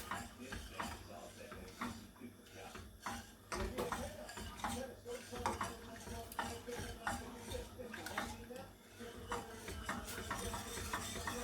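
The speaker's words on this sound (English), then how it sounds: "Just keep stirring it and the cheese will eventually melt." Cheese sauce being stirred in a pan over lowered heat until the cheese melts, for lasagne: steady scraping and soft clinks of utensil against metal, continuing for several seconds.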